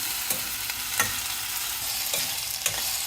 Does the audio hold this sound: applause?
no